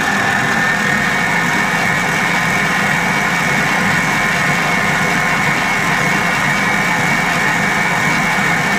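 A First FA 5259 dough kneading machine's electric motor runs with a steady, loud, continuous drone and mechanical hum throughout, with no clear pitch change.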